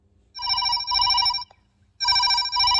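A telephone rings in a film scene, two bursts of a bright electronic trilling ring separated by a short pause, loud and clear with no talk over it.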